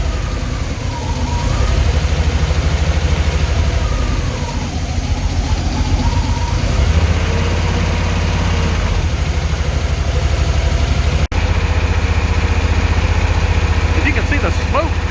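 An air-cooled barn find Porsche 911 engine runs at idle after long storage, a steady, loud, low rumble that wavers slightly throughout, with someone talking over it.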